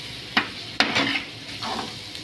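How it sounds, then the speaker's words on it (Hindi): Chicken keema being stirred in a hot pan, with a soft sizzle beneath a few sharp scraping strokes of a spoon against the metal at uneven intervals. "देखिए कितना अच्छा मिक्सिंग हो रहा"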